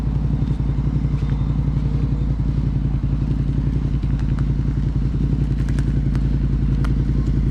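A motorcycle engine idles and putters steadily during a first riding lesson, a close, even mechanical throb with light clattering on top, running continuously without speech.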